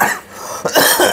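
A person coughs a few times in quick succession, close and clear, with a throat-clearing quality, and no other sound around it.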